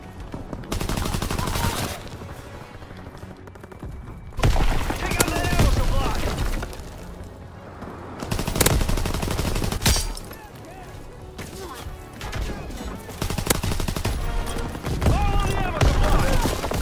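Shotgun fire in a video game, dense loud blasts and crashing impacts repeating throughout, with a person shouting over the shooting.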